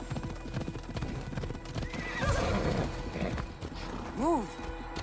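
Horse in Assassin's Creed Odyssey whinnies amid galloping hoofbeats, one wavering neigh midway and a louder, clear whinny near the end, over continuous game noise.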